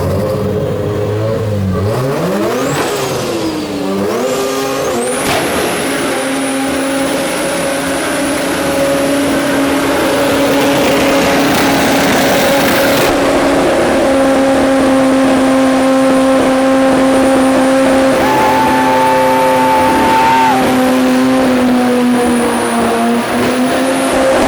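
A 725hp twin-turbo Mazda FD RX-7 accelerates hard, the rotary engine winding up through loud sustained pulls with gear changes, close and dominant, no talking over it.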